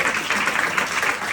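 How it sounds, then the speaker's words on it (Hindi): Brief burst of steady audience applause at a mindset training program in Agra, a continuous wash of clapping heard alone for just over a second. "जोरदार तालियां बजाएं"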